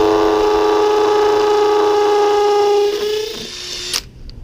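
A drill bit spins into material with a steady, high motor whine that holds for several seconds, then winds down and ends with a sharp click.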